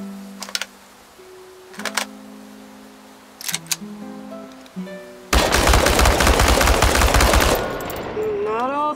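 Loud burst of rapid automatic gunfire aimed at tin cans in the video game Chernobylite, lasting about three seconds after a stretch of soft tonal chimes, then tapering into rising whooshing tones.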